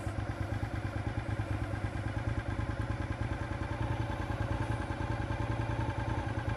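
A motorbike engine running steadily while being ridden, with a dense, rapid low thrumming pulse that stays loud and even throughout, with no voices.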